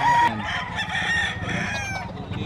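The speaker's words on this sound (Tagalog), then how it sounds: "Yung mga manok yan." Chickens at a pet market in Bocaue, with a rooster crowing loudly and close over a steady, busy market background, the crow fading into ongoing clucking and ambient crowd noise.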